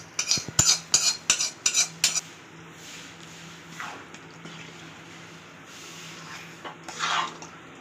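Tomato pickle gets mixed with a spoon in a pan: a rapid run of sharp metal clinks and scrapes up front, then softer, wetter stirring and occasional scrapes, close by and without speech.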